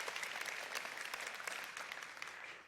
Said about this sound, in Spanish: ¿Podemos dar un aplauso a nuestros pastores de los locales?